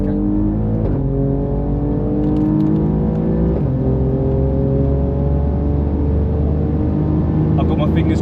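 Alfa Romeo Giulia QV lapping the Nürburgring, its engine droning loud and close with rising, stepping tones through gear changes and a steady road roar beneath.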